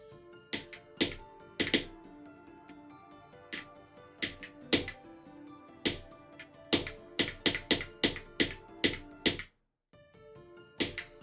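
Typing on a computer keyboard set to a 1.6 actuation point, with crisp, close key clicks in uneven bursts and short runs and a brief pause near the end, with no talking.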